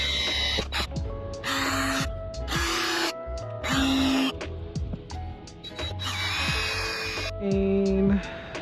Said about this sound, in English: Let's go ahead and pre-drill these holes.